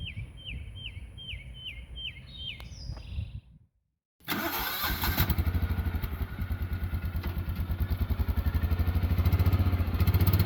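A 1971 Cadillac DeVille big-block V8 cranks with a steady, rhythmic starter whir, goes briefly silent, then catches and settles into a loud, throbbing idle close by.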